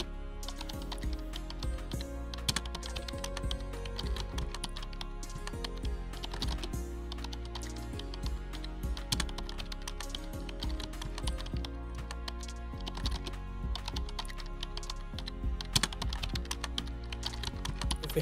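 Code is typed on a computer keyboard in steady, quick, quiet key clicks that continue throughout with no talking.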